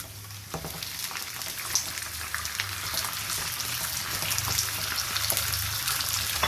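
Steady loud sizzling and crackling of liver frying with golden onions in a hot pan, with occasional stirring scrapes, close up and continuous.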